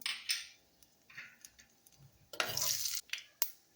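Mustard seeds and urad dal dropped into hot oil while making fish kulambu, giving a close, scattered crackle of brief pops and then a louder burst of sizzling that cuts off sharply.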